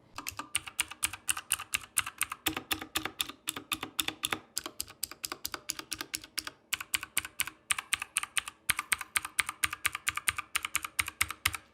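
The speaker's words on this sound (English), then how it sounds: "a 104 key mechanical gaming keyboard with custom switches that provide both tactile and audible feedback" Typing on a 1STPLAYER DK5 104-key mechanical gaming keyboard with clicky blue-style tactile switches, a fast steady stream of sharp close-up keystrokes with brief pauses, fairly quiet and with no voices.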